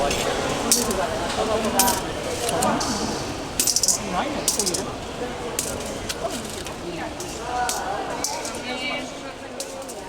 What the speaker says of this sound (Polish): dźwiękiem monet wrzucanych do metalowych mis